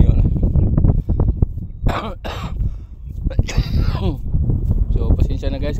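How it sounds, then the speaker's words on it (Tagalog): Harsh, repeated coughing and throat clearing up close, several rough bursts in a row, with bits of speech between them. "talagang inuubo pa ko"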